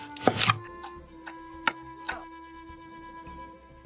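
A knife chops red onion on a board for Peruvian tequeños, with one loud cluster of cuts at the start followed by a few sparse, separate chops.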